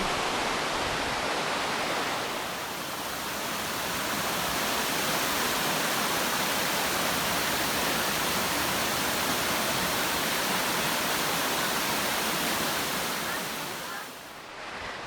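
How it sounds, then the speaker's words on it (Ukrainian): Rushing water of a Carpathian mountain waterfall roars as a dense, continuous broadband wash, loud and steady for the whole stretch, with no voices over it. "вслухавшись у шеліст води"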